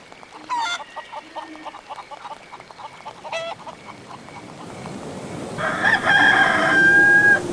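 A wild rooster in the game Haunted crows loudly near the end, after several faint, scattered electronic chirps and tones over a quiet background.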